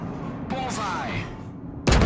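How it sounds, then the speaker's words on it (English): Naval guns firing one at a time in a video game, a single heavy boom with a whistling tail, then a second sharp blast at the end, with a voice talking over it. "I'm only firing one gun at a time"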